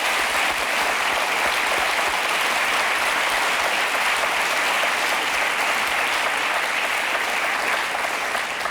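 A studio audience on a French talk show bursts into steady, loud applause, dense unbroken clapping that holds evenly from start to finish with no talk over it.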